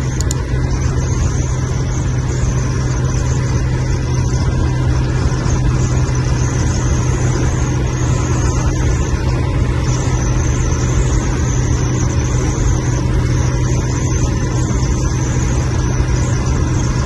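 A loaded cargo vehicle drives fast along a road, its engine and road roar steady and loud throughout, a continuous close drone with no talk.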